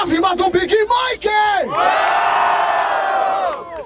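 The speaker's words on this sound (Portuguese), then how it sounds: "Barulho para as rimas do Big Mike!" A crowd at a Brazilian freestyle rap battle in Barueri, São Paulo, roars and whoops loudly after an MC's verse, a sustained wall of cheering that follows a host's shouted call and holds for a few seconds.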